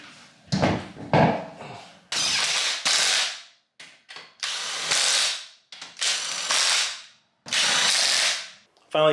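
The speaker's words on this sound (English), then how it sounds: "finally just gonna torque everything down now that the weight of the vehicle is on the suspension" A ratcheting wrench tightens Jeep suspension bolts during a 2.5-inch lift install, with loud, close bursts of rapid ratchet clicking separated by short pauses, plus a few sharp metallic clanks and no talking.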